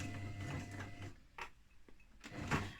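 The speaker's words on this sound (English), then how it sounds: "And then you are going to sew a couple of stitches forward" A sewing machine runs a few quick stitches forward and back on a drawstring bag, a soft, close mechanical whir with brief pauses and a faint motor hum in a quiet room.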